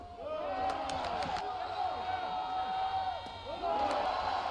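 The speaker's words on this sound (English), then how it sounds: "Crowd getting behind Casas." Baseball crowd at a South Carolina home game cheering on pinch hitter Casas, a steady roar with rising whoops and a few sharp claps, sustained throughout and swelling again near the end.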